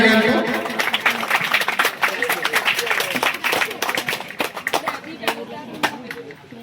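A burst of sharp hand claps rings out in quick, uneven succession, fairly close, tapering into scattered claps as people talk over them.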